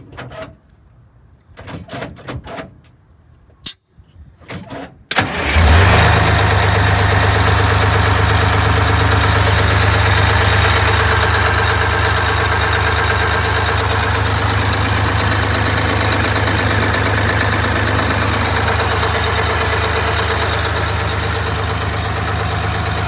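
A Detroit Diesel 6V92TA turbo engine in an Eagle bus cranks briefly after some clanking, catches, and settles into a loud, steady, rumbling idle close by.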